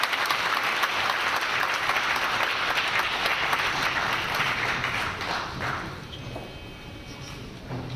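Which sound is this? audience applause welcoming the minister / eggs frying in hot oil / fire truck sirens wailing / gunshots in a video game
audience applause welcoming the minister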